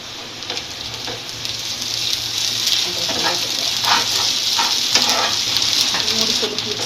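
Ginger-garlic paste fries in a pan with mustard, giving a steady, loud crackling sizzle with bursts of spattering and occasional stirring scrapes throughout.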